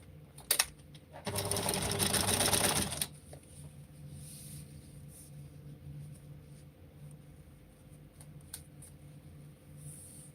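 A sewing machine stitches a folded seam in one loud, close burst of fast mechanical whirring lasting under two seconds. Quiet room tone follows, with a faint low hum and a few small clicks.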